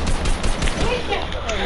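Brief rapid gunshots from a video game, a muffled burst of shots mixed with voices talking over it.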